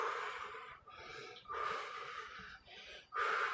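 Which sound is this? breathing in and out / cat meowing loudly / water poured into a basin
breathing in and out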